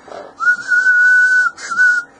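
A person whistles two steady, sustained high notes close to the microphone of a 10GHz wideband FM Gunn diode transmitter, the first longer, separated by a short break.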